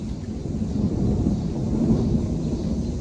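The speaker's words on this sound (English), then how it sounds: "That's a good thunder." Thunder rolls in a long low steady rumble lasting several seconds, fairly loud and unbroken, with no voices over it.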